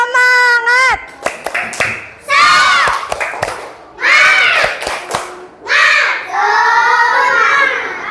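Schoolchildren in a classroom perform a rhythmic 'tepuk semangat' chant, shouting sung phrases in unison between sharp bursts of coordinated clapping, loud and close.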